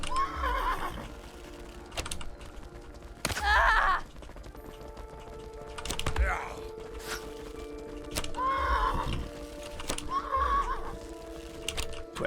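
Horses neigh and whinny several times in a video game siege, with short snorting bursts spread across the span and faint keyboard clicks in the background.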